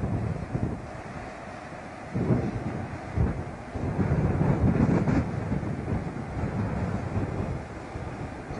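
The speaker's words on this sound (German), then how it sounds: "Es ist arg windig." Strong wind buffets the microphone in gusts, a roaring rumble that swells and eases, loudest in the middle, with no one talking.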